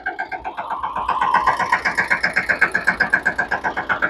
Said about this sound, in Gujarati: ટ્રેક્ટર તમે જોઈ શકો છો એકદમ સ્લો લીવરમાં હાલે છે